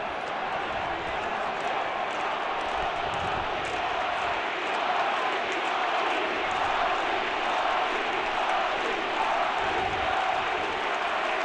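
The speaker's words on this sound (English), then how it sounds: "And you hear the crowd" A baseball stadium crowd roars and chants after Cleveland clinches a playoff sweep of the Boston Red Sox, a dense, sustained wall of cheering that swells slightly midway, with a commentator's voice faintly over it.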